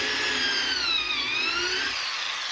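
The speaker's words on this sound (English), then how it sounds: "I'm going to flip up and put another pocket hole into the back side facing the other direction" A drill bores a pocket hole into a 2x2 wood board for a rustic bedside table, giving a close, loud whine whose pitch dips and rises before it cuts off.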